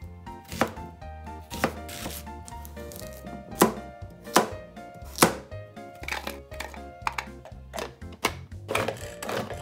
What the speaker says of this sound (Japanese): みじん切りはめんどくさいのでいつものブンブンチョッパーを使いましょう